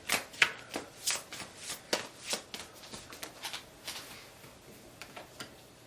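Tarot cards being shuffled by hand, a quick run of crisp riffling slaps and flicks in an irregular rhythm, close and fairly quiet, fading toward the end with no talking.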